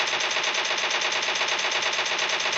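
Laser gun fire in a battle royale video game: rapid, unbroken buzzing bursts that stay loud and dense from start to finish, with no voices over them.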